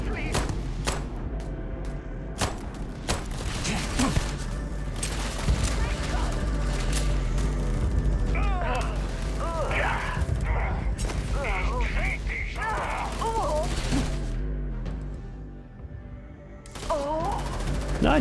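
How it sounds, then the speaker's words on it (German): Sharp pistol shots crack out in Starfield amid mechanical clanks and the clatter of combat. Someone speaks German over the action. "Waffensound aus der Dose. Okay, es ist eine Pistole."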